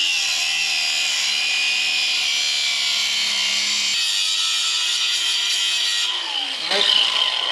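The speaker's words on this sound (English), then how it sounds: "I just take a cutoff wheel and get it flat to it" A cutoff wheel grinds a notch flat on a metal part clamped in a vise on a street stock race car, a loud steady high-pitched abrasive whine that shifts pitch near the end, close up.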